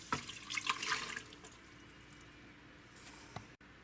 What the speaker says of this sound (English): Now let's go ahead and add 2 cups water.